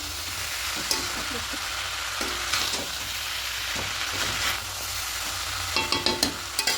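Chicken with cabbage fries in a pan, a constant loud sizzle broken by scraping stirs and a quick series of utensil taps toward the end.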